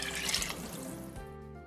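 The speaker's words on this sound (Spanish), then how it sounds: "Añadimos el agua" Water is poured into a cooking pot while making Puerto Rican gandinga, a short steady splash that tapers off, fairly soft and heard alone.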